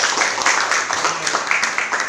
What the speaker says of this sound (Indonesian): Oke, kita tepuk tangan buat diri kita sendiri.